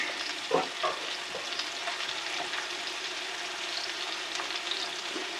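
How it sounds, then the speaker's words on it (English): Onions sauteing in plenty of butter with spice in a cast iron pan, a steady crackling sizzle with a few stirring scrapes near the start, close and continuous. "a lot of butter in here with some Tommy spice in. And we'll be sauteing up some of the onions."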